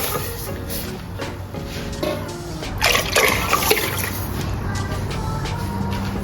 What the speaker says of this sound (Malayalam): ഒരു 1/2 ലിറ്റർ വെള്ളം ഒഴിക്കുന്നുണ്ട്.